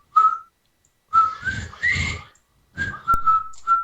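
A person whistles close into a microphone in short bright bursts, about six separate notes and phrases with brief pauses between them, loud and near, with no talking.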